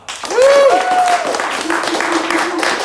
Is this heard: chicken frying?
no